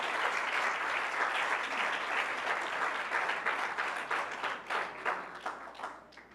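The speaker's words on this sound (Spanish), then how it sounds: "Dale un aplauso a Cristo." A church congregation breaks into strong, dense applause that holds steady and loud, then thins into more separate claps and fades toward the end, with no speech over it.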